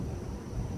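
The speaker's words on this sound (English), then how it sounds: "There's the thunder, yeah." Thunder rumbling during a lightning storm, a steady low roar filling the whole moment without distinct claps, with wind noise on the microphone.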